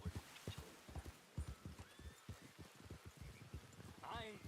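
Rapid hoofbeats of a horse galloping in Red Dead Redemption 2, a steady drumming of close, punchy thuds running throughout, with a brief whinny near the end and a voice talking over it.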